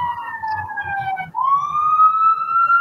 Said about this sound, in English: Because there's more sirens at this house.